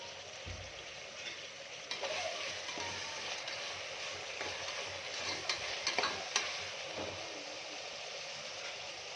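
Tomatoes with salt sizzle steadily in a hot pan for a Davangere-style tomato bath, a soft continuous frying hiss broken by occasional scraping stirs and clinks of the spoon, with no talking.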